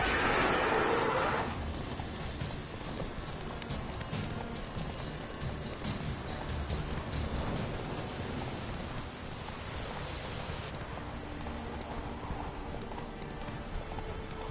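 Horse hooves clip-clop steadily at a gallop in the Witcher 3 video game, loud and close throughout, with a soft patter like rain behind and a brief bright burst at the start.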